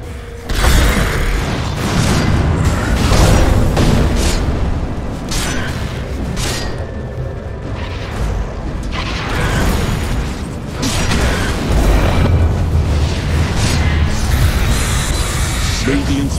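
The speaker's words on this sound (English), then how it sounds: "Radiant's bottom tower is under attack. Radiant's bottom tower has fallen." Dota 2 match audio of a bottom lane tower under attack and falling: dense, continuous mechanical clatter, creaks and booming impacts running throughout at steady loudness, with low rumbling hits layered under busy game effects.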